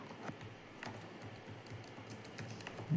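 Typing a narration on a computer keyboard during Tally accounting entry, a quiet stream of irregular close key clicks at a quick steady pace with no talking.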